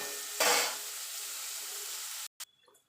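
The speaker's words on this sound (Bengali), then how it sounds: "আমি লাল লাল করে পেঁয়াজটা ভেজে নেব।" Onions frying in oil over a high gas flame for a chicken dish: a sharp burst of sizzle as they hit the hot pan, then a steady hiss for about two seconds that stops abruptly, followed by faint stirring clicks.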